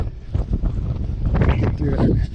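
Strong wind buffeting the microphone outdoors during horse training, a loud, continuous low rumble with gusty surges, and a voice talking faintly underneath.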